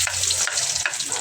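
Garlic frying in hot oil for a squid dish gives a loud, close, dense crackling sizzle that runs unbroken, with brief swells and dips in its texture.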